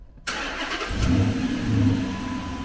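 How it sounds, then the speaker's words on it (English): A Dodge Magnum engine cranks and starts abruptly after a quiet moment, then settles into a loud, steady rumbling idle close by. "start up the car"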